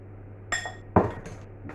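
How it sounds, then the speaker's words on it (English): A knife clinks against a bowl or plate while mixing wild greens pizza topping, with two or three close, sharp metallic taps separated by short pauses and no talking. "Mix it with the knife"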